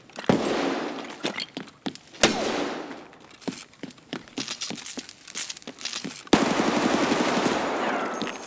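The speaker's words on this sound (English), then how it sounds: "There's a mutant guy shooting at me, run!" Automatic gunfire in the video game Escape from Tarkov: loud rapid bursts and scattered single shots echo over about eight seconds, ending in a dense, sustained volley of fire.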